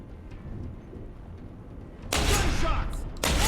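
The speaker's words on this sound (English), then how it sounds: "Gunshots!" Gunfire breaks out in the video game Deus Ex: Human Revolution, a burst of loud, dense shots arriving abruptly after quiet ambience and resuming after a brief pause.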